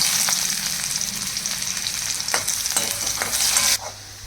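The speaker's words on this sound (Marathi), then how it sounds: "यात मी आता बारीक चिरलेला कांदा टाकणार आहे" Finely chopped onion frying in oil over cumin seeds, a close continuous sizzle with repeated sharp scraping strokes of a spoon stirring the pan, easing off near the end.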